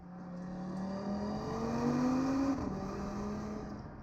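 Audi TT RS accelerating hard on a drive, its engine note climbing steadily in pitch as it pulls through the gears, loud and close with a brief dip before the tone settles and continues.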